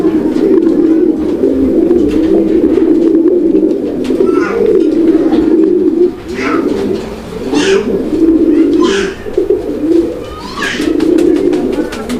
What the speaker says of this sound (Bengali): দর্শক বন্ধুরা এই যে দেখেন আপনারা কবুতর